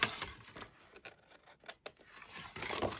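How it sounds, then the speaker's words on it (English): Scissors snipping through old greeting card paper while trimming an edge, heard as a series of close, crisp cuts with soft paper rustling in between. "Let's just cut that edge off."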